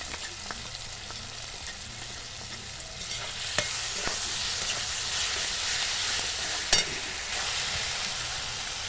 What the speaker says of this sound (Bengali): পেঁয়াজ টমেটো ভালোভাবে কষিয়ে নেওয়া হয়ে গেছে, দিয়ে দেবো আদা রসুন বাটা।